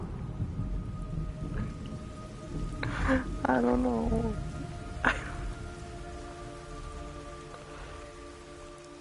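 Rain falls in the video game Metal Gear Solid Delta: Snake Eater, a steady hiss under rumbles of thunder, while a voice speaks briefly midway.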